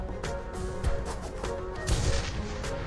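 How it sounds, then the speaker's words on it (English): Repeated grenade explosions in the video game Shadowrun, several heavy booms and crashes in quick succession over a dense, noisy battle backdrop. "Too many grenades being thrown"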